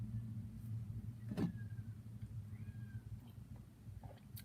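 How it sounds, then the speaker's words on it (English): Cats meowing and yowling just outside a window, a couple of faint, brief calls over a steady low hum of road traffic nearby. "There are cats having maybe sex right outside the window."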